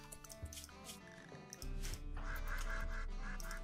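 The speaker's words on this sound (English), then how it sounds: "What the fuck are these ducks doing?" Ducks quacking in the video game Rimworld, several short nasal calls scattered across the clip over steady game music and ambience.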